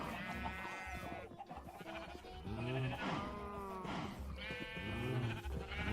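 Repeated sheep bleats from Minecraft, several wavering calls in a row, clear and close with short gaps between them.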